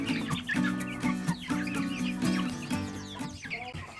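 Young chickens about two to three months old cluck and call on a poultry farm, a dense overlapping chorus of close, rhythmic clucks and chirps with no talking.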